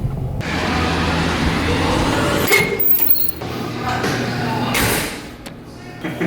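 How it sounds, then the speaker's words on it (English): A Procharger-supercharged Dodge Scat Pack idles and revs at a performance shop, its engine a loud, steady rumble with a thin whine rising briefly mid-clip before the sound drops and swells again. "Brought the car so you can check out the supercharger noise."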